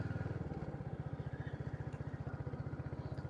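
Royal Enfield Hunter 350 single-cylinder motorcycle on a test ride, its engine thumping in a fast steady pulse, close and prominent under wind rumble, with no talk.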